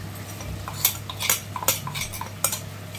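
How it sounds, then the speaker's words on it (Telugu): Ground masala paste goes into a cooking pot and is stirred with a metal spoon, giving a series of close, irregular clinks and scrapes against the pot over a low steady hum. "ఆ మసాలాని అయితే ఇప్పుడు ఇందులోకి వేస్తున్నాను అనమాట."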